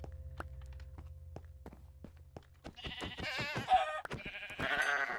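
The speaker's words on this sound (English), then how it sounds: "Unless you're planning on shearing up the sheep." Sheep bleating in the Minecraft video game, several short bleats in the second half over soft game footsteps and thumps, close and moderately loud.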